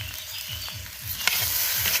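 Spoon stirring a sizzling curry with turmeric in a frying pan, a close, rhythmic scraping roughly every quarter second over steady frying hiss; no talking.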